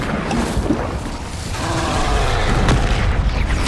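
Blasting spell bursting in Hogwarts Legacy, a dense booming explosion with rumbling low end and a sharp crack near the end, filling the whole stretch loudly amid busy game noise.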